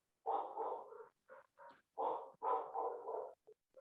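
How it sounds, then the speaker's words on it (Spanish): A dog barks in a quick, uneven series of about five or six barks, some drawn out and others clipped, at a moderate distance and fairly quiet, with no voices over it. "Alguien tiene un perro por ahí ladrando"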